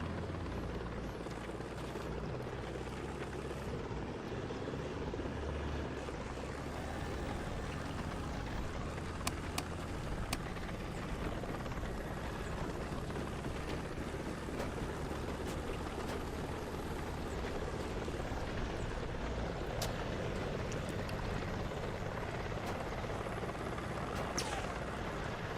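A helicopter in a multicrew tank combat video game gives a constant, steady rotor drone with a broad rumble that fills the whole stretch, and faint background noises scattered underneath.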